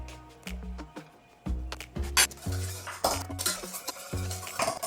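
A spoon stirs a homemade imitation cheese mixture after micellar casein powder and calcium are added, with clinking and scraping against the bowl in uneven bursts while music plays along.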